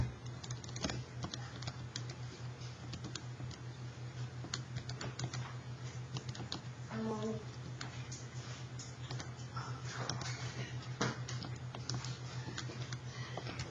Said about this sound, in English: I'm typing everything in.